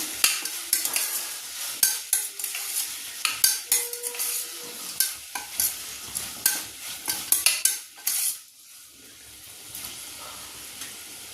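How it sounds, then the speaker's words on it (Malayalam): Curry leaves being mixed and lightly sautéed in a pan for beef stew, with a run of sharp spoon-against-pan scrapes and clinks over a soft sizzle, the stirring easing off near the end. "കുറച്ച് കറിവേപ്പില നമുക്ക് ഒന്ന് മിക്സ് ചെയ്ത ശേഷം ചെറുതായിട്ടൊന്ന് വഴറ്റിയെടുക്കണം"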